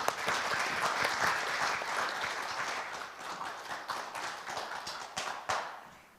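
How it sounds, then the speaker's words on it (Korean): Moderately quiet audience applause at a blockchain conference in Korea, welcoming a government official to the podium; a steady patter of many hands fades gradually over six seconds. "큰 박수 부탁드립니다."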